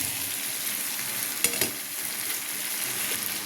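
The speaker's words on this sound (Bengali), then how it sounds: "এবার আলুগুলো দিয়ে দেব।" Potatoes stir-fried in a pan with tomatoes and green chilli give a steady, close sizzle, with a couple of sharp scraping stirs near the middle and no talking.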